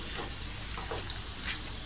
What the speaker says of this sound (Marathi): व्यवस्थित आपण अशी छानपैकी ढवळून घेऊया